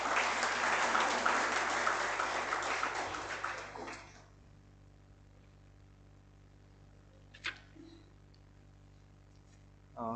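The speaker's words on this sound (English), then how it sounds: "Please, a big round of applause for Mr." Audience applause greets a speaker stepping onto the stage at a college induction program, a loud dense clapping that fills the first four seconds and then fades into quiet room tone with a couple of small knocks.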